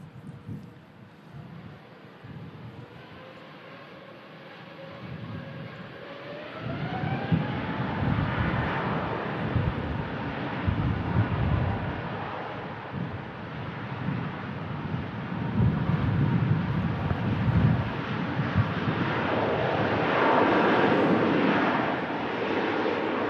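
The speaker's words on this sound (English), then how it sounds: "A350 is now lined up on 23 left." An Airbus A350 lined up on runway 23 left spools its engines for takeoff, a rising whine growing into a broad, steadily louder roar with wind buffeting the microphone.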